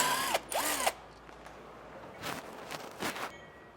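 Power tool spinning a 13mm bolt loose on a 2024 Ford E-Series rear anti-sway bar, with a sharp whirring burst first, then several shorter bursts, close and loud.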